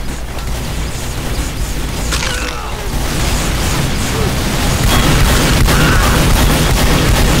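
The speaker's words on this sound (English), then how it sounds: "That's the sound of a tank." A tank rumbles in Team Fortress 2 Mann vs Machine, a heavy, continuous mechanical roar buried in dense, loud game combat with booms and gunfire throughout.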